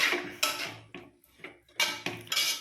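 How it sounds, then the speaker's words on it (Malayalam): Pomegranate lemon pickle is stirred in a metal pan, making repeated loud scraping and clinking strokes of a spoon against the pan in an uneven rhythm, close up with no talk. "അതുപോലെ തന്നെ നന്നായി യോജിപ്പിക്കുക."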